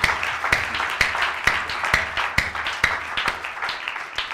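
A church congregation claps in steady unison, sharp evenly spaced claps about twice a second under a wash of cheering and applause, loud and full.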